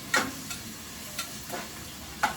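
Onions and tomato for vegetable biryani fry in a pan under a low, steady sizzle, broken by four quick spatula scrapes spaced across a couple of seconds.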